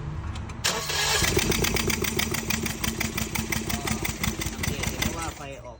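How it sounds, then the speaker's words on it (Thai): Car engine cranking during a spark plug test on cylinder three, for a car that hesitates on acceleration and won't shift gears: a close, loud, rapid rhythmic chug of the starter that runs steadily for several seconds and then fades. "เดี๋ยวจะลองสตาร์ทดูสูบสามนะว่าไฟออกไหม"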